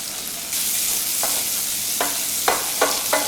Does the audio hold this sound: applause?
no